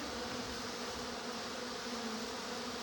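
A swarm of honey bees clustered indoors in a shop, producing a steady, dense buzzing drone that holds continuously without pause, fairly close and alone with no talk over it.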